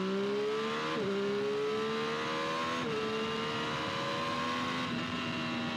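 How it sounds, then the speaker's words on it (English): A Triumph 765 Moto2 motorcycle with a Stage 1 setup pulls onto a highway at about three-quarter throttle, its engine revving up steadily through two gear changes, loud and close with a continuous droning tone. "we'll do one little pull on the motorcycle here onto the highway."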